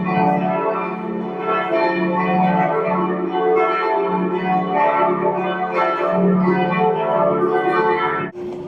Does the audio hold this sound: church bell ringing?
yes